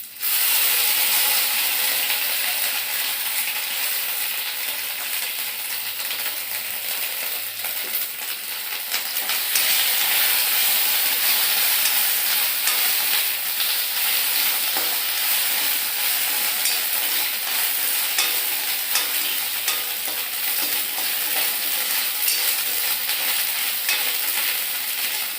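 Ginger and white cumin seeds frying in hot oil in a home kitchen, a steady loud sizzle with continuous stirring scrapes running unbroken throughout.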